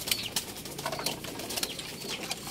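Pigeons in a backyard loft on a rainy day give faint coos and wing flutters amid soft background noise.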